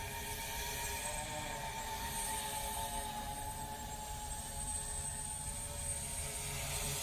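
A hydrogen fuel cell Tarot X4 drone flies nearby with a steady, continuous rotor whine and hum that holds at an even loudness throughout, with no voices.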